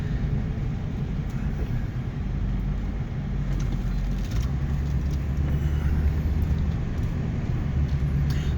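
A car engine runs smoothly with a steady low rumble, heard from inside or near the moving vehicle, constant and fairly loud with no voices.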